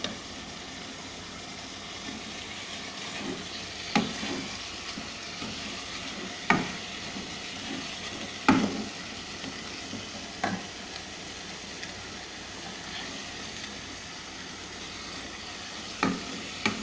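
Chicken and capsicum stirred in a hot pan with a spoon, a steady low sizzle running throughout with occasional sharp scrapes and clinks of the spoon against the pan.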